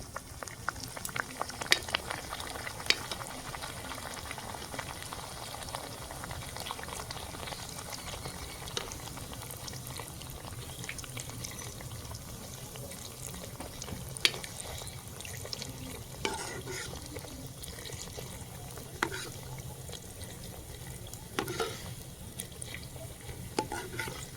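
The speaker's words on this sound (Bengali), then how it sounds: "তেলটা গরম হয়ে গেছে তেলের মধ্যে দিয়ে দেবো" Dhakai paratha fries in hot oil in a kadai, giving a soft, steady bubbling hiss with scattered light scrapes and clicks of a ladle throughout.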